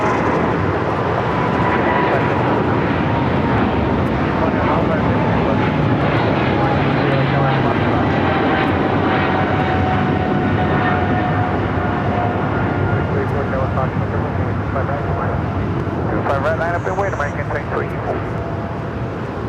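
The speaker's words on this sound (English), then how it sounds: "we got the Japan Airlines 777 now rolling down" A Japan Airlines Boeing 777 bound for Tokyo Haneda takes off from LAX with a powerful, continuous jet roar and whining engine tones that stay loud and close throughout, while voices talk faintly over it.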